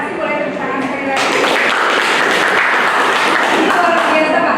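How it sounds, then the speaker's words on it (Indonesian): Indoor audience at a training session breaks into applause, a dense burst of clapping that starts after a second of quieter sound and continues steadily, loud and close. "terima kasih boleh tepuk tangan sekali lagi"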